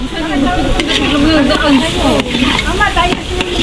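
Ground meat for spaghetti sauce sizzles and fries in a pan, a steady hiss running under close, continuous talking.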